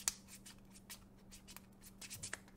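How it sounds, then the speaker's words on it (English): Yu-Gi-Oh! trading cards being shuffled by hand, a quiet run of soft riffling and rubbing bursts over a faint steady hum, with no talk. "let me just give him a good shuffle"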